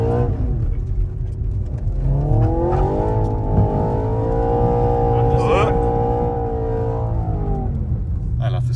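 An Audi RS4 quattro engine revs up and holds a high, droning note for several seconds, then falls away, loud and close, over a low rumble.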